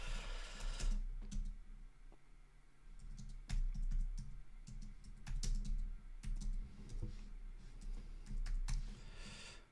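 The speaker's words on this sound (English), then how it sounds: "I'm still trying to type this one out" Quick bursts of computer keyboard typing, the clicks close and fairly loud, arriving in irregular clusters separated by short pauses.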